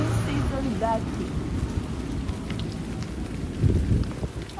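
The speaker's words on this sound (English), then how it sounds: "Oh no, how come it's raining?" Steady rain falls at a vacation resort, a dense continuous patter with some low rumbling beneath it, moderately loud throughout and with no voices.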